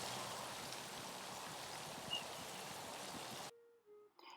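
Outdoor water fountain splashing in a steady, soft wash of falling water for a few seconds before it cuts off to near silence with a faint tone.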